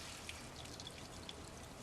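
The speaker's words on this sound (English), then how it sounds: "Now we're going to try to squeeze the water out. So put it into a colander" Water trickles and drips as salted grated vegetables are squeezed in a colander, a faint, steady dribble with a few small splashes and no talk.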